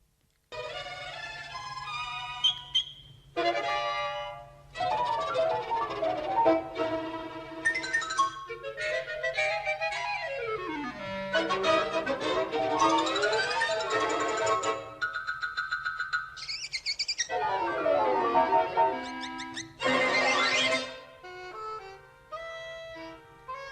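Lively orchestral cartoon score in the style of Tom and Jerry, with quick melodic runs, sliding glissandi and sudden stops between phrases, playing alone with no voices.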